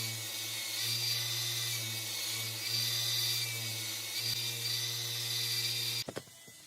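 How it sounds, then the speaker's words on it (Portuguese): A steady, high-pitched whirring hum of a belt sander polishing a wooden bumper piece for a D-20 truck model, running continuously for several seconds before stopping abruptly near the end. "agora é só mesmo polir utilizando aí a lixadeira de cinta"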